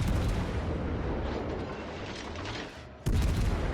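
Heavy naval guns of the cruiser Des Moines boom in World of Warships Legends, a dense, sustained roar of salvos with a brief dip before another loud blast hits near the end.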